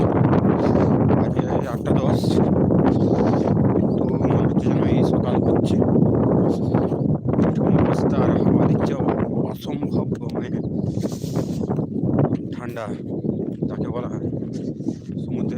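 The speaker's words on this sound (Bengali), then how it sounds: "পাড়ে থাকলেও মনে হয় এরকম ঠান্ডা বাতাস না" Steady wind buffets the microphone with a loud, continuous rumble, while a person talks over it throughout.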